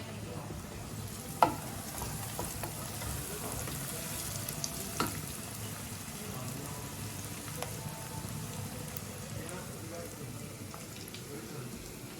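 Onions frying in oil for Telugu-style goat head curry, a steady close sizzle with a few sharp clinks and stirs over a low background hum.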